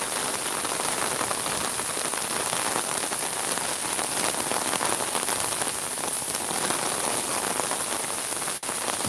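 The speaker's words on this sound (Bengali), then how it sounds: "প্রচুর পরিমাণ মাপে বৃষ্টি হচ্ছে।" Rain falls hard and without pause across a village in Sylhet, a loud, even roar of drops striking the ground and roofs throughout.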